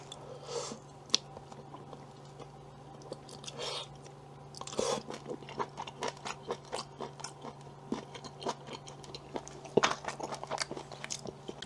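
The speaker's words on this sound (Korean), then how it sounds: "이거는 발라내기 어려울 것 같으니까 그냥 먹겠습니다" Someone eats frozen beef short rib soup (galbitang) up close, with soft crunchy bites and wet chewing in irregular bursts and no talking.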